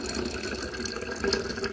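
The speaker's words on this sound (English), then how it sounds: "So I'm pouring salt water in there" Salt water pours into a container during silver recovery from keyboard contacts, a steady close trickle and splash that runs without a break.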